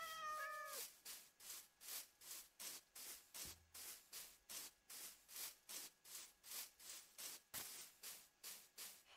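A Minecraft cat lets out one clear, wavering meow at the start, followed by a long run of steady, evenly spaced rasping strokes, like rhythmic sawing or rubbing, each loud and close.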